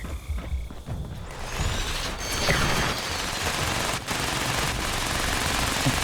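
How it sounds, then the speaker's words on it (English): Enemy gunfire in Fallout 76, steady automatic shooting mixed with game ambience and mechanical noise, sustained and moderately loud throughout, no talking. "What are they shooting at? Well, they're shooting at those guys."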